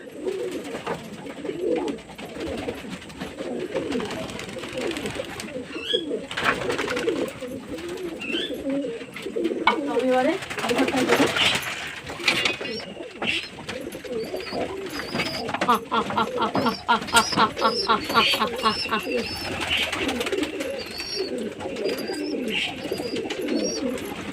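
Pigeons coo repeatedly in soft, low throaty bursts, close by, with occasional chirps and rustling alongside.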